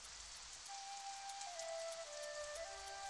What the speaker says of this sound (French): Un matin, la pluie tombait sur le village de Moko.